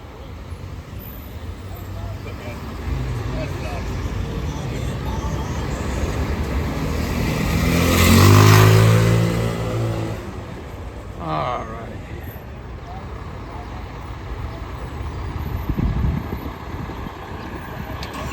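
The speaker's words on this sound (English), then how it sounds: "We're just moving our rig off of Briggs Avenue on the corner." An FDNY fire engine rig is moved off a street corner at a working fire, its heavy diesel rumble swelling and fading amid steady city traffic noise, with voices in the background.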